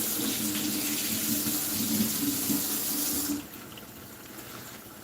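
Tap water running into a sink while a bay leaf is washed, a steady close rush of flowing water that cuts off sharply near the end, leaving quieter room noise.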